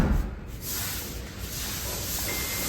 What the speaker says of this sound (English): Spray, wait like 30 seconds and take it off.